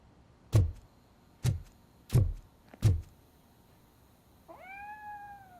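A cat meows in the Robocop Rogue City video game, giving four short, loud, separate calls at a steady pace, followed by a softer drawn-out tonal whine.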